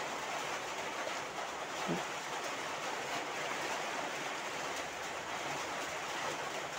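Prawns simmer in a boiling fish curry broth, a steady broadband bubbling hiss that stays even and continuous throughout, moderately close with no talking.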